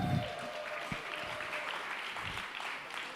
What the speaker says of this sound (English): Another big thank you and round of applause to all of our wonderful speakers throughout the week